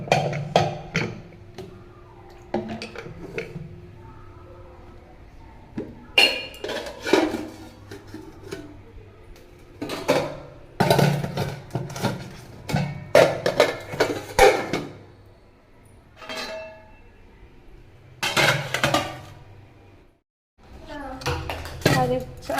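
Washed pots, plates and utensils being put away in a home kitchen, with intermittent metallic clatters and clinks in bursts, some louder knocks, and a voice talking at times between them.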